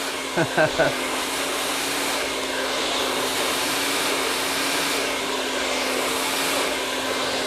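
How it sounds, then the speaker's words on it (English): A hair dryer blows steadily and loudly as curly hair is blow dried, a continuous whooshing motor hum with a few brief knocks near the start. "I don't like to blow dry hair when it's semi-dry because it just doesn't get any body"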